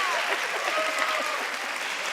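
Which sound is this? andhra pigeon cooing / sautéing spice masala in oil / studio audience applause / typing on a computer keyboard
studio audience applause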